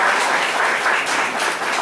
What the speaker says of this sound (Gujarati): તાળી પાડીને પ્રભુને ધન્યવાદ